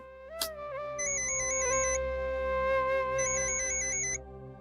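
A phone ringtone plays a repeating electronic melody with bright, steady tones, starting after a brief click and running to the end, moderately loud with no talk.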